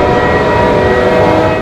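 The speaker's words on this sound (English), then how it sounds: "That's my train!" A train pulls into a station with a steady, loud rumble and metallic whine, and sustained tonal hum throughout with no voices.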